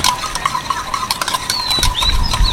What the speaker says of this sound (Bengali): প্রথমে আমি অল্প করে দুধ মেশাচ্ছি, দইয়ের সাথে ভালো করে মিশিয়ে নিই